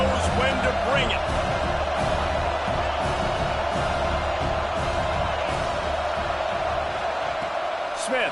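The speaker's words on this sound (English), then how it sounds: "This crowd knows when to bring it." Crowd at a college football stadium during an Oregon versus Alabama game: a steady, distant roar of cheering fans fills the background while a commentator talks over it.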